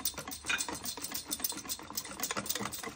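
Dhokla batter for the spongy Gujarati steamed snack is beaten in a bowl, giving a fast, steady scraping and slapping whisk that stays close and continuous, with no talking.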